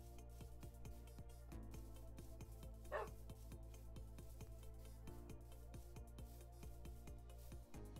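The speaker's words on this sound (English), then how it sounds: "Hey, dogs!" Dogs in the Minecraft video game bark in a quick run of short yips and woofs, fairly close, over a steady background hum.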